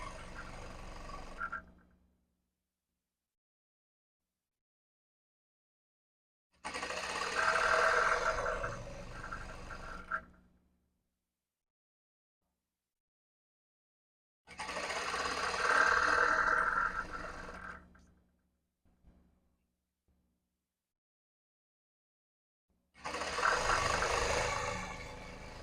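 Sewing machine stitching a folded half-inch hem on cotton-polyester salwar fabric, in four separate bursts of steady whirring, each a few seconds long, separated by silent pauses.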